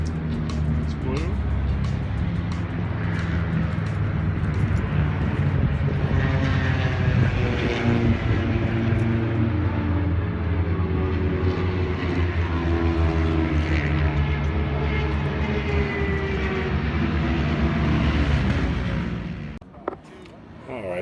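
Vintage two-stroke racing motorcycles head out on a warm-up lap at Roebling Road, Georgia, their buzzing engines loud and sustained, rising and layered as several bikes pass, before cutting off near the end; a voice speaks over them.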